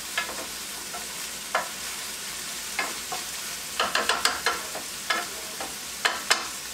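Ground beef sizzling steadily in a skillet on low heat for a fried cabbage and beef casserole, with a spoon scraping and stirring in irregular clacks over the constant frying hiss.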